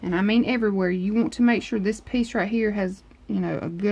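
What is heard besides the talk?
No everyday noises stand out.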